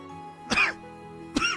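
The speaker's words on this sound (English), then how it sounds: "Sorry about the cough, guys." A person coughs twice, one sharp cough followed by a second about a second later, close and clear against quiet room tone.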